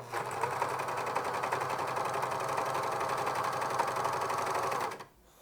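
A sewing machine stitches turtleneck cuffs in a steady, fast, continuous run for about five seconds, then stops abruptly.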